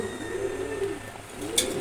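A pigeon from a pair coos softly and close by, a low rolling call repeated a couple of times in a quiet setting.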